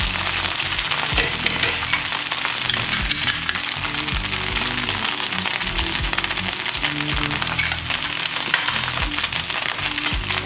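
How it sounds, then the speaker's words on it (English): Vegan ribs fry in barbecue sauce in a pan, giving a dense, steady close sizzle with rapid crackling pops throughout and no talking. "just cook the sauce into the ribs and make sure the heat just reduces it down, makes it nice and sticky and just coats the ribs"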